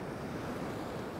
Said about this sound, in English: because it's northerly that the waves are coming in